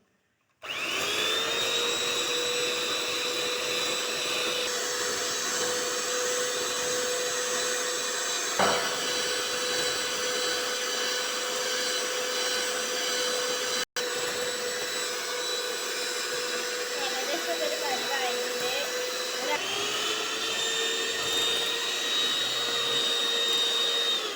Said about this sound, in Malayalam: ഇനി നമുക്ക് നന്നായി ബീറ്റ് ചെയ്യാം.